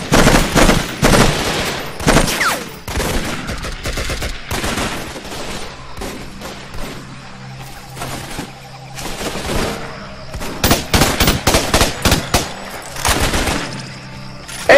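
Heavy automatic gunfire in a jungle battle in the video game Raven Squad: Operation Hidden Dagger, with loud close bursts of rapid shots, a quieter stretch midway, then another intense barrage.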